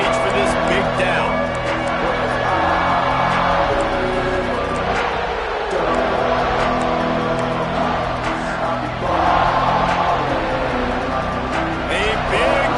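A football stadium crowd roars steadily and densely ahead of a big third down, swelling at moments beneath close, continuous commentary.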